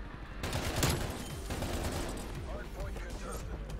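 An EM2 assault rifle fires in Call of Duty Warzone, a dense run of gunshots in a fairly slow, steady rhythm, loud and close, followed by quieter game action sounds.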